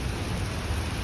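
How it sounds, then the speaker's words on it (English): Summer thunderstorm in late June, a steady broadband rush of rain with a deep low rumble of thunder underneath, loud and continuous throughout the short stretch with no distinct claps. "Wow, I haven't seen a thunderstorm for many years."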